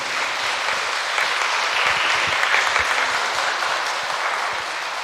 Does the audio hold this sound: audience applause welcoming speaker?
yes